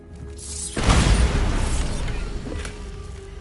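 A Bombarda spell blast in Hogwarts Legacy: a sudden heavy boom after a brief rising buildup, followed by a long rumbling, crackling decay that fades slowly.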